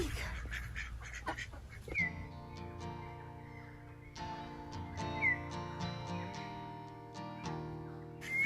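Ducks quack in a garden, several short calls scattered over the whole stretch, close and fairly clear, with human speech and other voices mixed in among them.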